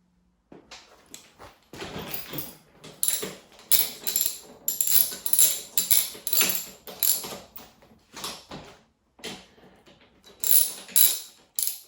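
A ratchet clicks in repeated bursts while tightening the handlebars on an Offspeed 48V 1200W brushless electric quad, close and fairly loud, with short pauses between strokes.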